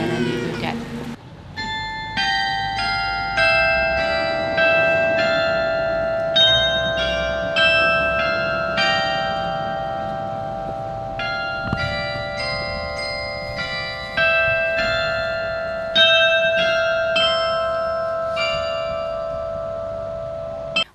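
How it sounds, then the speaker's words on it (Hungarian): New church bells ringing at the Sárospatak castle church basilica in Hungary, a steady peal of overlapping metallic strikes with long sustained ringing tones, loud and continuous throughout. "majd első alkalommal szólaltak meg az új harangok is"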